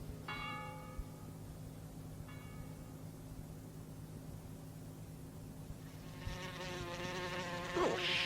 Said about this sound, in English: It's this wasp.